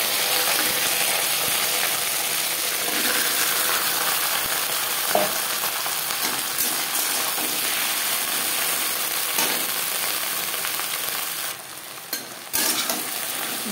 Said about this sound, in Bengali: দশ 15 সেকেন্ড জিরে ভেজে নেওয়ার পর দিয়ে দেব টুকরো করে কেটে রাখা ভেন্ডি